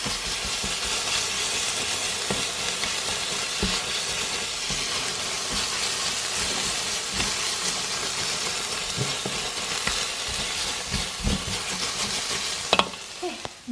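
Tomato puree fries in a pan with a continuous loud sizzle and hiss, broken by occasional stirring scrapes and clatters near the end, with no voices present.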